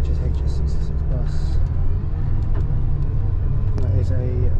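Steady low engine drone from inside a Volvo B8R coach with Plaxton Leopard bodywork, running as a rail replacement on the Cotswolds route toward Charlbury; continuous deep rumble with faint voices in the background.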